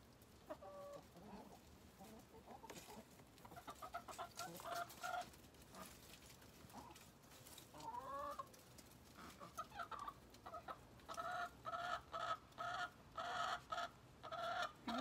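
Backyard flock of chickens clucking and murmuring at moderate distance, scattered soft clucks growing busier and more rhythmic toward the end, with no talking.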